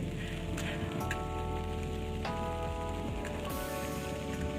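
Steady rain patters on surfaces throughout, a constant hiss with occasional louder drips, with a low hum and faint tones in the background.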